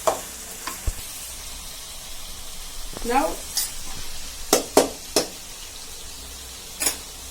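Tomatoes fry in a pan for a curry, with a soft steady sizzle under occasional stirring scrapes and sharp clinks of a spoon against the pan.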